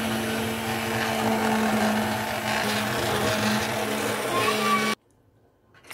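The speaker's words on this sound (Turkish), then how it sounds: "Şimdi blenderdan geçireceğiz." A kitchen blender purees softened cooked tomatoes into sauce, running as a steady loud motor whir with a churning edge for about five seconds, then stopping abruptly into near silence.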